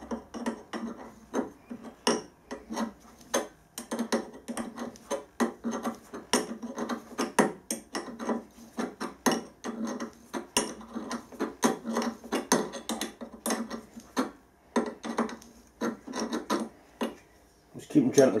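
A hand tap cuts threads into metal in a long run of short scraping, ratcheting strokes, each turn giving a crisp rasp at a steady working rhythm, close and clear.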